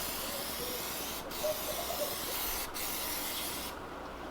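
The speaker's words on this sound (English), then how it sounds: "I try to get different angles when I spray, so that I can get Plasti Dip into every single crevice, every single hole" A spray can applies Plasti Dip to a Toyota Tacoma, giving a steady, close, continuous hiss with two brief breaks and a gap near the end where the nozzle is released.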